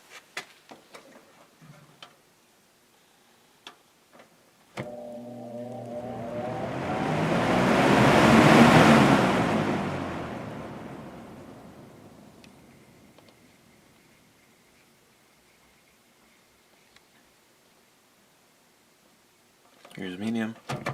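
A vintage Sears box fan starts up with a low motor hum and a broad rush of moving air that swells to a peak, then slowly fades, with faint ticking clicks before and after.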